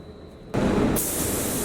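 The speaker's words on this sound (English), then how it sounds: "so I can just put it straight in the gun and spray it" A 1.2mm spray gun lays clear coat onto a plastic bumper, starting with a sudden loud, steady hiss after a brief quiet moment and holding close and continuous to the end.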